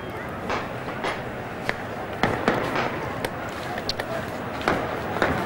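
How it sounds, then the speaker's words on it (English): Firecrackers and Kalashnikov rifles fired into the air during Yasser Arafat's funeral in Ramallah: sharp, irregular cracks and bangs scattered over a constant crowd roar, with a voice talking throughout. "there's the deafening noise now of the firecrackers, the Kalashnikov rifles being fired in the air"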